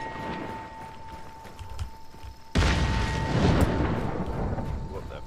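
An explosive barrel blows up in the Hunt: Showdown video game, a sudden loud boom halfway through a noisy stretch of gameplay sounds, followed by a lingering rumble.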